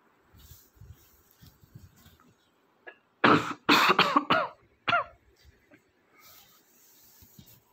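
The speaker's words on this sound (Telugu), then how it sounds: "దగ్గులు" A person coughs loudly and harshly close by in a tight burst of several coughs, with a throat-clearing note, breaking an otherwise quiet indoor stretch with faint background noise.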